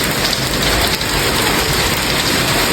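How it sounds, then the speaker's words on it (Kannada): Steady, dense rain falls close by, a continuous loud hiss of drops striking surfaces, with no voices. "ಇದೇನ್ ಮಳೆ ಅನ್ನೋದು."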